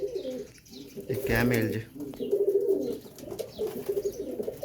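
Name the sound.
Teddy pigeons cooing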